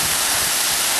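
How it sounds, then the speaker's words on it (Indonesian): Aek Godang waterfall roaring as water drops from a mossy cliff in the wind: a dense, steady rush of broadband noise, loud and unbroken, with no voices. "bagaimana derunya, suara jatuhnya air terjun ini yang terhempas oleh angin"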